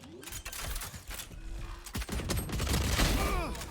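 Rapid bursts of gunfire rattle through a round of Valorant at a collegiate esports tournament, dense and loud with repeated cracks and volleys, while a caster talks over the shooting.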